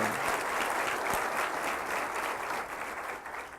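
A church congregation bursts into applause, dense and loud clapping from many people that holds steady, then begins to thin and fade toward the end.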